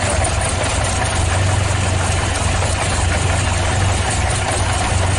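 A car engine idling while a vacuum hose from the manifold to the idle-up AC solenoid is tested, giving a loud, close, steady low rumble with a slight rough shake throughout.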